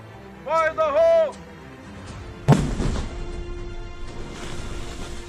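An EOD team sets off a controlled detonation of explosive remnants of war: after a shouted warning, a single sudden boom hits and trails off into a long, rumbling decay.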